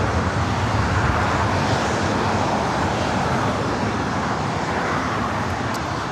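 An Alaska SkyWest Embraer E175 jet at LAX produces a steady broadband roar, moderately loud and unchanging, with a distant rumble and no talking.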